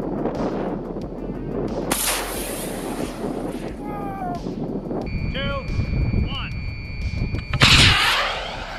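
A dummy rocket fired from a 3D printed launcher on a demolition range gives a sharp blast followed by a whooshing burn, outdoors with wind buffeting the microphone and people talking around it.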